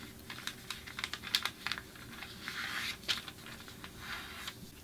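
Origami paper is folded in half and creased down, giving a close sequence of light, dry taps and rustling scrapes with a brief sliding swish in the middle.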